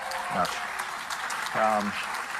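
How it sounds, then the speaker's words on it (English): A crowd applauds at a political speech with steady, continuous clapping. Brief bits of voice break through it. "listen to these buffoons clapping like a bunch of brainwashed seals"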